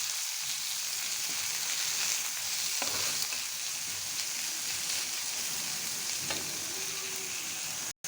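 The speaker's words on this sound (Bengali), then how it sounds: "পেঁয়াজটা আগে কিছুক্ষণ ভেজে নেব।" Onions frying in soybean oil, a close, steady crackling sizzle throughout with a couple of light utensil knocks against the pan.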